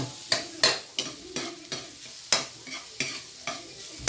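A spatula scrapes and stirs ingredients sautéing in a pan during home Kapampangan cooking. About a dozen sharp, evenly spaced strokes ring out close by over a soft, continuous sizzle.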